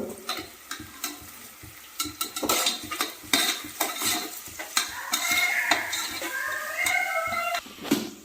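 Tomato and onion for vegetable biryani sizzle in a pan while a metal spoon clatters and scrapes against the pot in frequent irregular strokes, fairly close.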